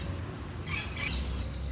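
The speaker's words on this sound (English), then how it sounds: "And we have parrots joining us." Parrots squawk in a quiet garden, giving a couple of harsh, bright calls in the second half at moderate distance, with no talk over them.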